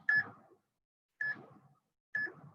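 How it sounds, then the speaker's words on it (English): Three short electronic beeps from a workout interval timer, evenly spaced about a second apart, clear and alone with silence between them. "Let my timer run out."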